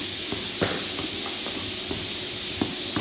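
Onion pieces sauté in a spoonful of oil, a continuous soft hiss with scattered light scraping taps from stirring, steady and fairly quiet, no talk over it.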